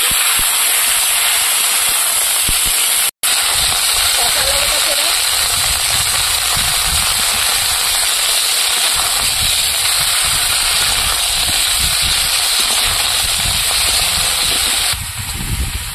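Potatoes, eggplant and potato stems sizzle in hot oil after frying onion, a loud, steady hiss of frying that holds unbroken apart from one brief cut.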